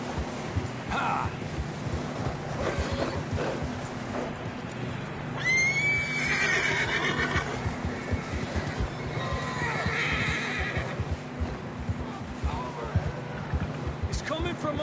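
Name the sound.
horses neighing and hooves clip-clopping in Red Dead Redemption 2 video game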